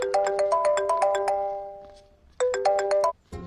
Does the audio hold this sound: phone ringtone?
yes